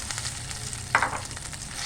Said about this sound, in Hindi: एक पैन लेंगे, उसमें हम ये ऑयल डालेंगे और इसमें हम ये मैरिनेट किया हुआ चिकन डाल देंगे